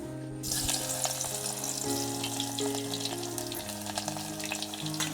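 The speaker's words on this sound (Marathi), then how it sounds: "कांदा आणि लसणाचीच फक्त फोडणी" Onion and garlic tempering in oil in a pot over a wood-fired mud stove gives a steady, close, crackling sizzle that runs unbroken. A low, sustained hum sits underneath it.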